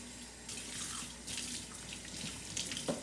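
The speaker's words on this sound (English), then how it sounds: "I'm gonna put a little bit more water." Water runs from a kitchen tap into a pot of gravy with meatballs, a steady broadband hiss that shifts in strength over a few seconds, with a faint hum underneath.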